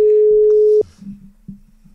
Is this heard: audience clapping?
no